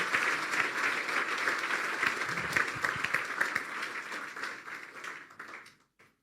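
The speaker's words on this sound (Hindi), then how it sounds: "फिर ताली बजा दें यीशु के लिए।" A church congregation claps during a sermon, a full, steady round of applause that stays loud for about five seconds before thinning out and stopping, with no talk over it.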